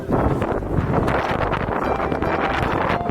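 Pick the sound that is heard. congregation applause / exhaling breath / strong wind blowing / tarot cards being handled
strong wind blowing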